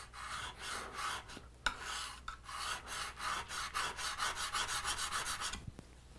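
A blade is honed on a fine sharpening stone in rhythmic back-and-forth rasping strokes, a steady scraping series with a brief pause near the middle, close and clear with no talk.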